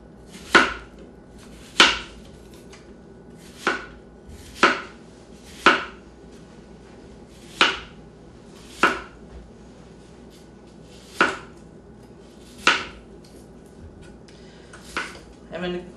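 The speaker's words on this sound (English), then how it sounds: "I'm going to keep slicing these apples." A knife slices through apples on a board for a salad, about a dozen sharp separate chops at a steady, unhurried pace, close and clear against a quiet kitchen background.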